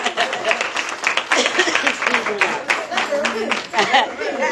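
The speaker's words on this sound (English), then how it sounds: "y'all clap it up for yourself again" An audience claps for itself at a spoken-word talk, with irregular, uneven clapping bursts that rise and dip across the few seconds, mixed with crowd murmur and light chatter.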